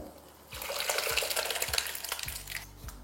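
Boiled chickpeas tumble into a pan of frying spice masala, setting off a sudden loud sizzle that spreads with wet stirring scrapes, close up with no voices.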